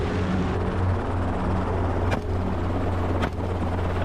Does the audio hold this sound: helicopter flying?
yes